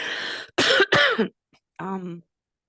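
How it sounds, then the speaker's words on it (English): A woman clears her throat in two harsh, breathy bursts close to the microphone, followed by a short pause and a brief voiced hum, all in an otherwise quiet room. "I just have to clear my throat again, sorry."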